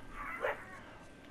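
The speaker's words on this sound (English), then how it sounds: "I'm sorry about the barking." A dog gives a short, muffled bark in the background, faint and a little distant against room noise.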